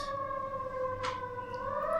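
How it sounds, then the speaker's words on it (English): A siren alert from the Space Alert board game soundtrack wails as a steady electronic tone with a sharp burst partway through, at moderate volume with no talking. "Okay, sirens. That's a space alert going on right there."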